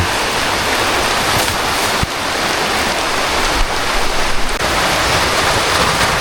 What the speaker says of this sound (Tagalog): Talagang walang umay ang ulan.